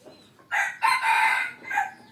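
A decoy jungle fowl rooster crows once, loud and close, a drawn-out cock-a-doodle-doo rising and falling over about a second and a half.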